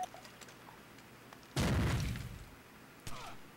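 A frag grenade detonates in a Rainbow Six match, a sudden loud broadband blast that rumbles and decays over about a second, followed by a fainter sharp crack, set against quiet ambient game noise.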